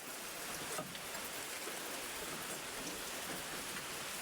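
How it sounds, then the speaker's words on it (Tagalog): Steady heavy rain pours down at night at a bahay kubo in the province, a dense continuous hiss of drops drumming on surfaces with no voices. "Ayan, malakas na naman yung ulan."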